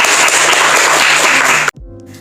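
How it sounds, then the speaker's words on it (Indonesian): Loud, dense applause from a live audience welcoming a guest to an Indonesian talk show, a continuous burst of clapping that cuts off abruptly near the end. "Tepuk tangan dulu buat Kak Auren."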